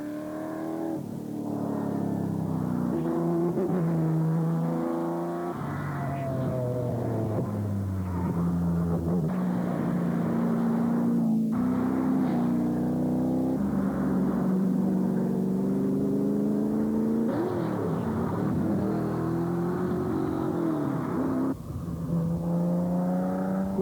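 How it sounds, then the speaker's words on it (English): Loud racing engines roar and rev continuously, rising and falling in pitch as rally cars, including a Group B Metro 6R4, pass close by one after another during the NZ Targa 2000 event. "Peter Johnson and Son in the very powerful and extremely rare Group B Metro 6R4."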